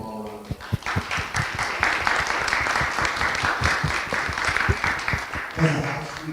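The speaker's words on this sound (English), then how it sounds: "So let's give them all a round of applause." Audience at a public oversight hearing breaks into steady applause, sustained clapping throughout with a slight swell near the end, a voice briefly audible as it fades.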